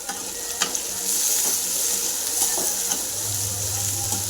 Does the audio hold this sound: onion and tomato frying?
yes